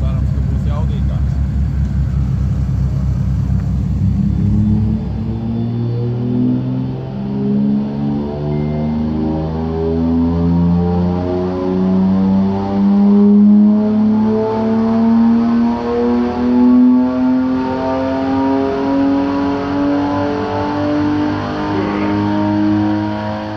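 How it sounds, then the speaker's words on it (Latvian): A 1990 BMW E34 525 with its M50 engine runs up on a dyno. The loud, close engine note climbs steadily in pitch through one long, sustained pull. "atkal tas pats stends Dino sistēmas, automašīna tāpat, E34-525-90 gads, nekas nav mainījies, M50 plīts."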